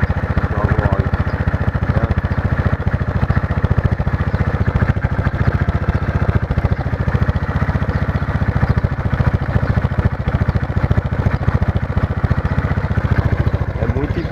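A motorcycle engine idles steadily just after its first start, a close, continuous low throb with an even rhythmic pulse that holds unchanged throughout.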